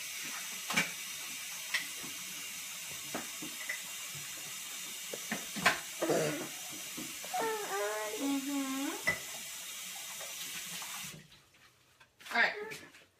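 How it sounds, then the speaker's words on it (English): Water runs and splashes as a ceramic egg cooker is rinsed under a tap, a steady hiss with small knocks and clatters, briefly under a voice, before the flow cuts off and a final clunk follows. "now I'm gonna rinse this out"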